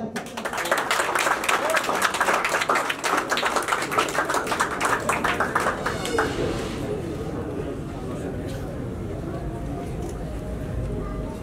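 A mushaira audience bursts into steady, crowded clapping to welcome poet Tajdeed Qaiser from Lahore. The applause thins and fades after several seconds as a voice begins speaking.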